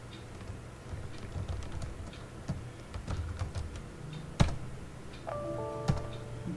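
Someone types a command on a computer keyboard, a close run of light, irregular key taps with a couple of louder strokes near the end, no voices.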